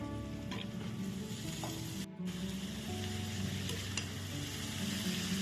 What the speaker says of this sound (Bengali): আলু আর গাজরটা আমার ভাজা ভাজা হয়ে গেছে এর মধ্যে পালং শাকগুলো দিয়ে দেব